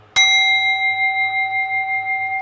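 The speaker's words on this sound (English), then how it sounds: "Can you hear this bell if I ring it?" Hand bell struck once, a sharp clear ding that rings on as a steady bright tone with a gentle wavering decay, alone in a quiet room.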